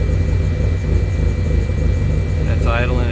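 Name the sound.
car engine idling at 750 RPM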